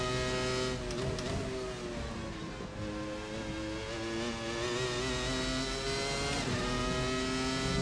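A Formula 1 race car engine in a 1997 European Grand Prix racing game, screaming high and continuous throughout, its pitch rising and dipping through gear shifts and corners, loud and close with no pauses.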